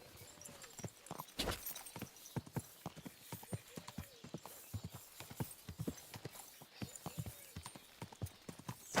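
Horse hooves clip-clop steadily in Kingdom Come Deliverance 2, a fairly regular rhythm of sharp knocks over a faint outdoor ambience, with a short snort or whinny early on.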